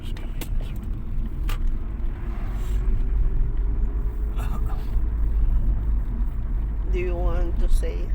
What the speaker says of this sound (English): that car's coming this way